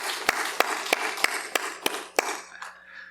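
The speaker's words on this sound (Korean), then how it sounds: "우리 기존의 성도님들께 감사의 박수로 우리 감사와 존경의 마음을 전하기 원합니다" A congregation applauding in a church: dense, sustained clapping punctuated by several sharp individual claps at a fairly regular pace, tapering off near the end.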